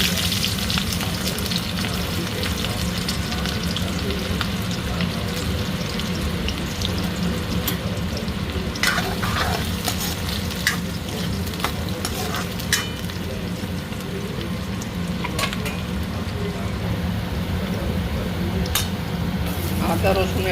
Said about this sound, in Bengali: তেলে পেঁয়াজ দিয়ে দেবো